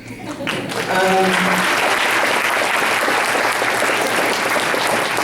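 An audience bursts into applause during a speech by someone, a brief spoken voice leading into loud, dense clapping that swells and holds steady.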